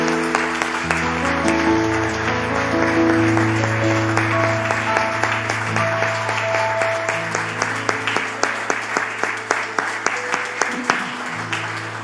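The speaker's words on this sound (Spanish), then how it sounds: "Le damos un aplauso al Señor, hermanos." A church congregation claps together, the applause building and holding at moderate volume, then thinning into separate sharp claps toward the end, with music or voices faintly underneath.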